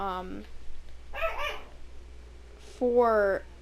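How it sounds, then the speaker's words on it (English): A dog barks nearby indoors, several separate woofs and yips spread over a few seconds, the last bark louder and more drawn out, over a low background hum with faint speech. "that's my dog."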